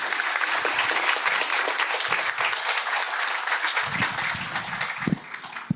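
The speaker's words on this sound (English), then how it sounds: "Please give a warm round of applause to our panel." An audience at a university careers panel event gives a warm, steady round of applause for the panel, loud and continuous before thinning out toward the end.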